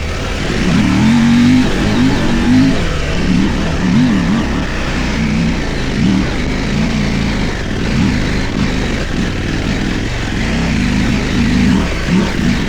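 A KTM 890 motorcycle in second gear labours up a steep, dry dirt hill, its engine note rising and falling in a steady, loud drone that wavers throughout with no talk.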